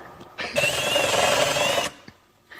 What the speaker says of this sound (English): we're drilling on the marble